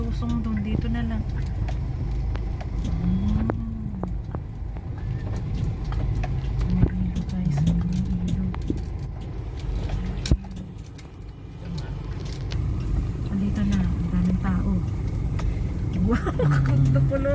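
A four-wheel drive vehicle rumbles steadily along a rough route near a river, its engine and road noise constant throughout, while people talk over it.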